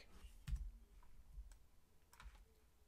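Computer mouse clicks and keyboard key presses during 3D modeling work, a few faint, isolated taps spread across a quiet background.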